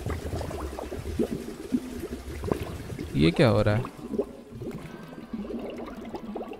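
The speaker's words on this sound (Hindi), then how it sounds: "फ्लश की आवाज़ है भाई।" Toilet flush in the video game I Am Fish: a short, loud whooshing gurgle of rushing water rising out of background game noise, with someone talking before and around it.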